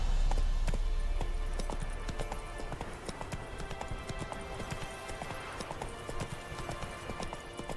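A horse gallops through The Witcher 3 game world, its hooves pounding in a fast, steady clip-clop rhythm under a constant background wash of game ambience.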